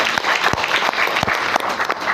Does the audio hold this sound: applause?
yes